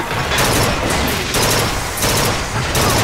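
Rapid, continuous gunfire in BioShock Infinite at the Comstock House, loud and close, with brief dips between sustained bursts of shots.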